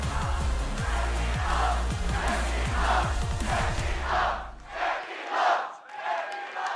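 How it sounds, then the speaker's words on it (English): A big arena crowd of esports fans roars and chants at a League of Legends World Championship match. The crowd noise swells in rhythmic waves with a low rumble underneath, then thins into fainter, pulsing cheers. "it's great to hear that the fans are cheering"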